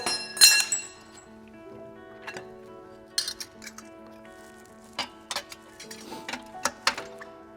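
Spring-loaded retaining rings are pushed down and turned to lock filter bags into a dual three-stage bag filter housing, giving a sharp metallic clink followed by several quick clicks and taps, close and clear.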